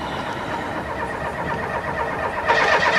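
Car engine being cranked and started, a continuous churning mechanical whir that swells louder near the end, close by with no talk.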